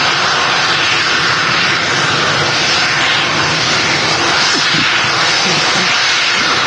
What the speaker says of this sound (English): Yeah, Etihad next to take off.